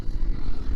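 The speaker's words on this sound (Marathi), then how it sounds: "आत्ताच एक विमान उडलं" Brief low droning hum of a small propeller airplane, steady and somewhat distant, with no voices.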